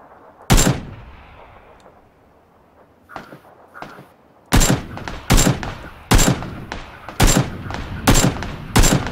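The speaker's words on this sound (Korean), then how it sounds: "저 문서 쪽에서 우리 쏘고 있어요." Gunfire in the PUBG battle royale video game: a loud single shot, a quiet lull with faint clicks, then a run of sharp, evenly spaced shots close by.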